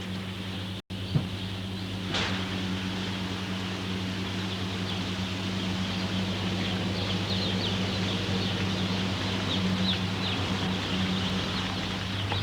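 Chickens and chicks in a broiler house: a steady, dense wash of cheeping and clucking from many birds over a constant ventilation hum, continuous and even throughout.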